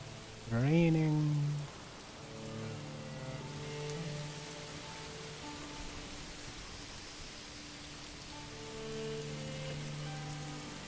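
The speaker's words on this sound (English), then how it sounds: "Raining." Steady rain in the medieval city-building game Manor Lords, a soft continuous hiss of falling drops with faint tonal game music over it and a brief louder rising tone near the start.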